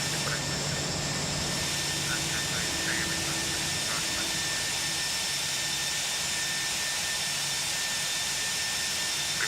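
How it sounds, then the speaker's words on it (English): Airliner taking off in the X-Plane 11 flight simulator, a Toliss Airbus A319 departing Heathrow: a steady, loud jet engine roar holds throughout with a whining high tone on top, continuous and unbroken. "Alright, that's Speedbird 190 taking off."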